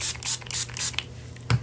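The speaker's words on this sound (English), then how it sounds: "I always keep a little spray bottle of water on my desk." A small spray bottle of water on a crafting desk gives four quick, hissing squirts in a row, close by, followed by a single soft knock.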